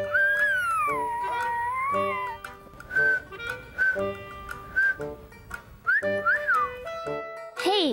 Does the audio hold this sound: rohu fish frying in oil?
no